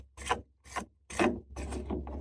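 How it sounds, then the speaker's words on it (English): A wing nut on the bar cover of a Stihl MSA 60 C battery chainsaw is turned by hand, giving four or five close, rhythmic scraping ratchet-like rasps with short gaps between them. "Just take your finger, pop it in there, and then just counterclockwise, and you just unscrew it"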